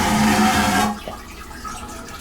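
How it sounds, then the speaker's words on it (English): The Mega Flush toilet in a Norwegian Getaway cruise ship cabin lets out a loud, harsh rushing flush that cuts off abruptly after about a second, leaving faint residual water noise. "And it's home to the Mega Flush toilet."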